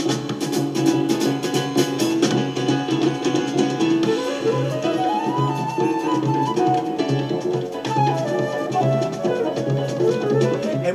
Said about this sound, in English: kind of spicy trade-offs between the trombone and saxophone